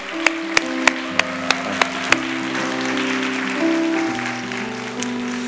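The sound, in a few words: applause for newlywed couple in church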